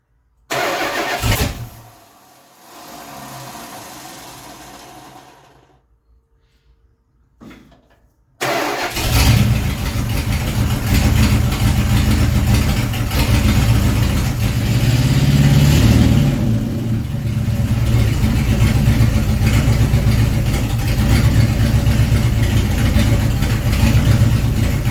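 Car engine cranking and catching after a carburetor rebuild, sputtering briefly and stalling, then firing again and settling into a steady, loud, close running idle that holds with slight swells while warming up.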